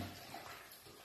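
Water runs steadily while chopped food is rinsed in a kitchen, a continuous, fairly even washing and splashing with no break and no talk.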